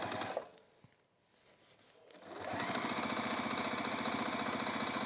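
A sewing machine runs steadily across a marked line toward an earlier row of stitching, starting after a quiet pause and then holding a fast, even mechanical chatter close by.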